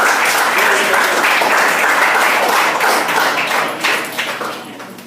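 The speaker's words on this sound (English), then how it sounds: "Clap for this guy." An audience applauds for a coach at a talk on responsibility and identity, steady dense clapping that holds loud for several seconds and then gradually thins and fades.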